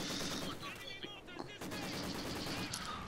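Dense bursts of machine gun and rifle fire crackle continuously in a Company of Heroes 2 multiplayer World War II battle, loud and chaotic with overlapping shots, under a speaking voice.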